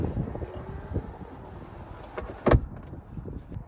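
Electric rear sunblind on a 2009 BMW E60 530d LCI moving inside the cabin: a faint, low motor whir under quiet interior noise, ending in a short soft clunk near the end.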